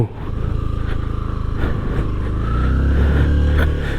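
A motorcycle engine drones close by as the bike rides along an off-road route near Belwood view point, Kandy, Sri Lanka, steady and loud with a deeper low growl building in the second half.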